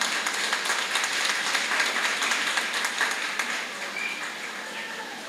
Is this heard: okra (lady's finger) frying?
no